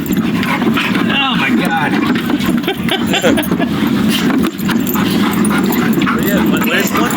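Three excited dogs bark, yip and whimper nearly nonstop, loud and close, while people talk and exclaim over them.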